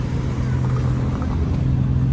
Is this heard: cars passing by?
yes